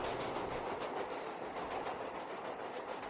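A subway train in a film scene rushes past in a steady, loud, broadband roar with faint clickety-clack of the rail cars, continuous and close throughout with no talking.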